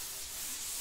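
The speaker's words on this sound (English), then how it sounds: "get a 400 grit sanding block, and use that on your primer before your first coat of paint" A 400 grit sanding block rubs over primer on a laminate dresser, making a faint, brief, even scratchy hiss close up.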